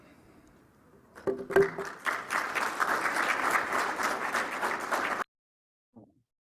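An audience claps after a forestry talk, a burst of applause that builds quickly, holds steady for a few seconds and then stops abruptly, followed by a faint single sound in the quiet.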